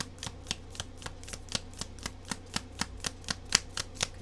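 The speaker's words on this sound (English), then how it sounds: "Let's go ahead and shuffle a little more." Tarot cards are shuffled in a fast, regular rhythm, each crisp riffle snap landing close and clear over a faint low hum, about four per second.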